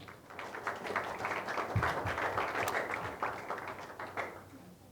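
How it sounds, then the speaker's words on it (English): Audience applause at a school promenade, a continuous crowd of hands clapping, moderately distant and steady before tapering off at the end. "Let's give them a round of applause."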